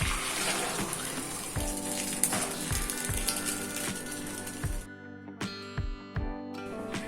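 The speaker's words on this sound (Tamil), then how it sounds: "இந்த ஸ்டேஜ் வந்து தண்ணியை வந்து ஃபுல்லாக ட்ரைன் பண்ணிட்டு நம்ம ரைஸ் மட்டும் செப்பரேட் பண்ணி எடுத்துக்கலாம்" Water pours off cooked biryani rice being drained in a kitchen, a steady gushing splash that breaks off partway through, followed by a few scattered drips and clunks of the pot.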